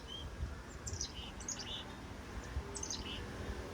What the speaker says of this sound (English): I just paused for a minute to hear the pretty bird singing up there.